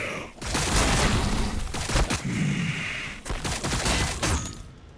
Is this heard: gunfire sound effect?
yes